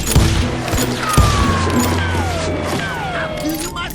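Gunfire in the Western video game Call of Juarez Gunslinger, with sharp shots and thuds over a rumbling background, and a voice speaking over the action.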